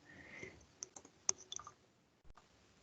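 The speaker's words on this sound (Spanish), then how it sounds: "Está peleando el teclado conmigo hoy día" A computer keyboard gives a few sparse, quiet clicks with pauses between them, and no one speaks.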